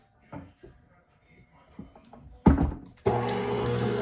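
An electric mixer whirring through red velvet cake batter, starting in a short burst and then running steadily and loudly up close after some brief knocks and handling noises.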